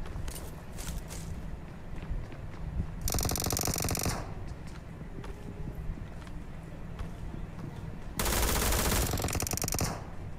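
Automatic machine gun fire in the BGMI battle-royale game: two loud sustained bursts, each about a second long, standing out against steady quieter in-game background noise.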